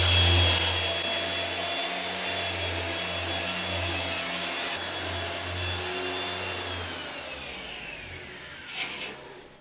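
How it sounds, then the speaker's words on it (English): A wire brush scrubs a circular saw blade in a steady, loud whirring rasp that holds for several seconds, then tapers off near the end with a brief scrape. "this is just a wire cut brush"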